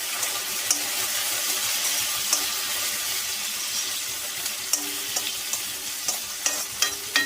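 Ridge gourd frying with garlic in a pan for chutney, a loud continuous hiss and sizzle throughout, joined by sharper utensil clicks and scrapes toward the end.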